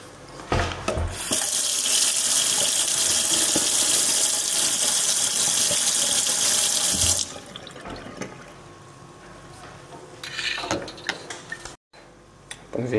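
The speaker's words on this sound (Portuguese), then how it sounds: "Para limpeza basta passar por água." Tap water runs hard to rinse a Clatronic MS 3089 milk frother, a loud steady hiss for about seven seconds. It then drops to quieter handling noises and light splashes.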